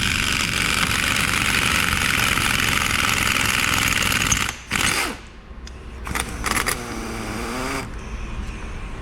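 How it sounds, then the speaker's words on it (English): An impact gun drives a puller collet down to pull a side bearing off a Chrysler 8 1/4 differential, making a loud, steady mechanical roar for about four and a half seconds before it cuts off, followed by scattered clanks and handling noise. "We're then able to use an impact gun and drive the main collet down,"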